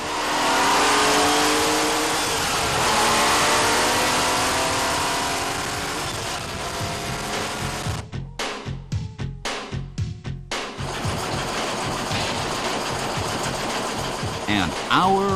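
Honda Gold Wing 1500 engine, a 1988 touring motorcycle flat-six, running under full-load simulation in a test lab: a loud, steady, rising drone that briefly breaks into rapid pulsing chops midway before settling back to a continuous roar.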